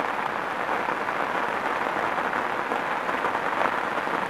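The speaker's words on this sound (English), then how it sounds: "I think there's a rain" Rain falls steadily at a fenland carp fishing spot, an even hissing patter that stays constant throughout, fairly loud and close, with no voices.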